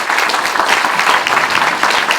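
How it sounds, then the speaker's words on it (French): Audience applause at a round-table evening event in Paris, a dense, steady clapping from a crowd, loud and close, continuing without a break. "Donc applaudissez-le, Marc Daoud."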